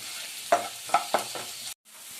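Masala for a varutharacha mushroom curry is fried in a pan over a soft sizzle, with three quick scraping stirs close by before the sound cuts off abruptly.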